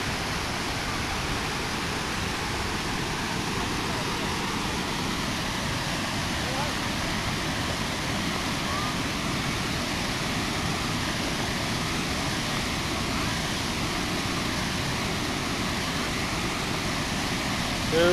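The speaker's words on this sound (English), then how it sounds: "To make you feel, you know, how powerful this waterfall is." Powerful waterfall at Mendenhall Glacier near Juneau, Alaska, heard up close as a steady, loud, unbroken roar of rushing water that holds constant throughout.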